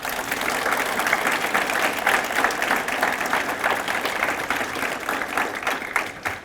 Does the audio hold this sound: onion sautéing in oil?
no